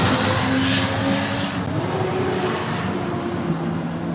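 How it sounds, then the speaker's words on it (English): Cars passing by on the street out front, a loud steady engine and road rumble with a gradual rise and fade as vehicles go past, no talk. "I'm out front, cars passing by."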